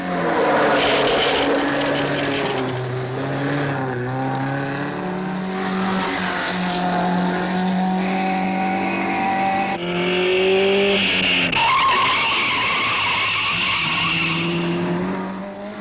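An Alfa Romeo rally car on an Alpine climb during the 1958 Coupe des Alpes roars hard as it accelerates, engine pitch rising and falling through gear changes with tire squeal, loud and continuous.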